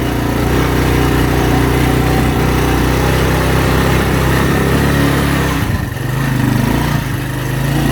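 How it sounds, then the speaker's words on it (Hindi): Motorcycle engine droning steadily and loudly while riding along a mountain route, with a slight dip in the noise near the end and no one speaking. "जिसकी वजह से बाइक का शोर भी आप सुन सकते हैं।"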